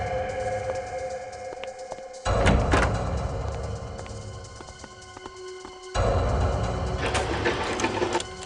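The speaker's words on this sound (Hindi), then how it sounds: "भाई ये दरवाजा खुल नहीं रहा है।" A door that will not open is forced, giving two bursts of loud, rattling, scraping noise a few seconds apart over a busy, humming background, with no voices.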